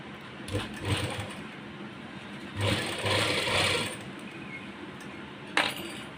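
A sewing machine, a plank-mounted model, stitches loose palazzo trousers in short close bursts of rattling, mechanical running with pauses between runs and no voices.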